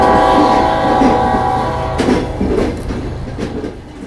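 A train of the Puna railway rumbles past loudly with rhythmic clicking of wheels on rail joints, the roar slowly easing as it moves away.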